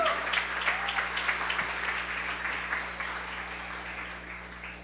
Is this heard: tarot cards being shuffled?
no